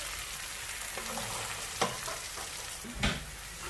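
Potatoes and aubergine frying together in a pan for achari aloo baingan, a steady soft sizzle with two sharper scraping stirs, close and fairly quiet, no voices.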